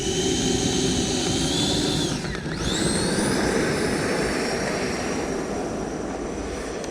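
A Horizon Hobby RC jet airplane roars steadily in flight, its turbine whine sweeping sharply down then up as it passes close by, loud and continuous.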